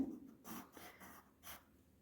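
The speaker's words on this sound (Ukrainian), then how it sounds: "І навіть я ось зараз пишу, і м'який олівець набагато темніший за середній" A soft B-grade graphite pencil moves over drawing paper, making faint, close scratchy strokes in a few short bursts.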